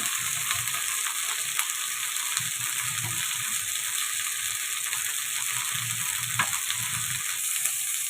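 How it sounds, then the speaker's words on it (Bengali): Okra sizzles steadily in hot oil in a pan, a continuous crackling hiss broken by occasional clicks and scrapes of stirring, heard up close without talking. "ঢেঁড়সটা কিন্তু এখনো ভাজা চলছে।"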